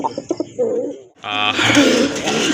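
Pet pigeons of matching colour, kept for sale, give a few short soft coos close by, followed by a louder burst of broad rustling noise.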